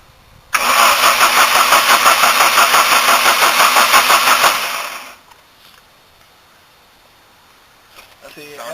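A Daytona's engine cranks and fires, a loud, steady pulsing roar lasting several seconds before cutting off, followed by near silence and faint background sounds.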